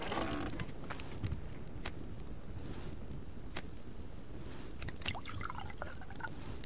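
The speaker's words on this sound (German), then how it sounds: "Ich muss Wasser auffüllen." Water being filled in the survival game Subsistence: a soft, continuous trickle and splashing with scattered drips, faint and steady throughout, with no voices.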